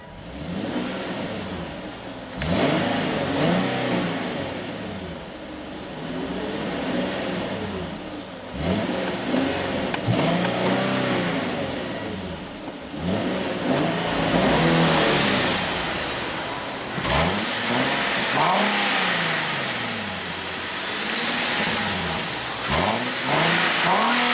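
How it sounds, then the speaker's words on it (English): A 2016 Nissan 370Z's 3.7 L V6 revs repeatedly from idle, each blip rising and falling, with several distinct pulls close by over about twenty seconds. "And let's go ahead and rev it up."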